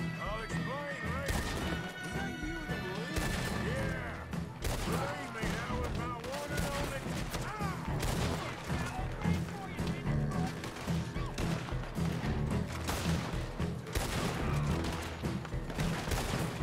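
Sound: gunfire in the video game Red Dead Redemption 2

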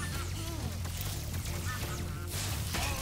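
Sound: chickens in Spyro the Dragon video game

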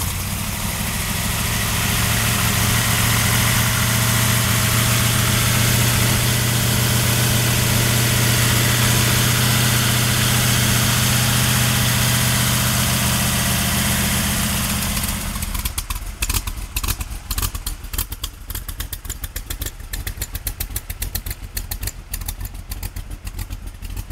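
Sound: Roush-powered 1965 Shelby Cobra Backdraft engine idling

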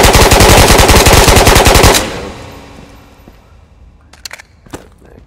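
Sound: full-auto gunfire in the video game Ghosts of Tabor

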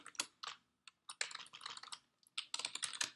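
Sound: typing on a computer keyboard

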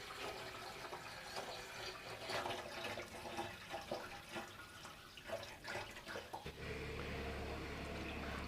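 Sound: water poured into motorcycle fuel tank

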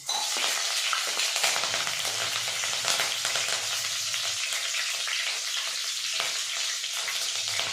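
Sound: curry leaves and green chilies frying in hot oil

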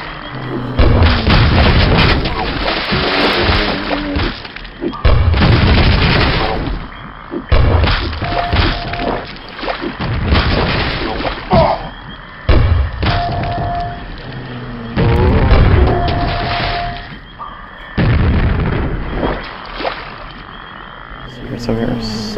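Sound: explosions from rocket or grenade launcher in Quake video game

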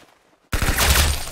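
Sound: gunfire from the Roblox video game Arsenal

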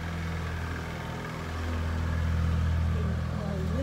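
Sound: small vehicle engine passing on village street

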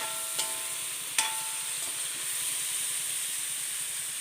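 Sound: bitter gourd sautéing in pan

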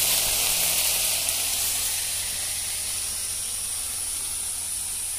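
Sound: potatoes frying with onion and green chilli, sizzling

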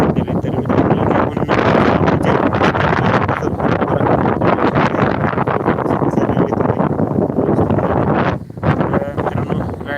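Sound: strong wind blowing across a cauliflower field

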